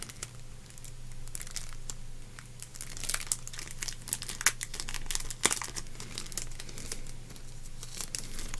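Crinkling of a small plastic sticker pouch being handled and opened, continuous rustling with sharper crackles and tearing-like bursts, close and moderately loud over a low steady hum.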